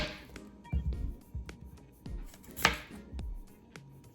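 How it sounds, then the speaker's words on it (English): Knife chopping the ends off sweet potatoes on a cutting board, a handful of sharp, separate thunks spaced irregularly, close and fairly quiet with no talking. "So I'm just going to cut the ends off."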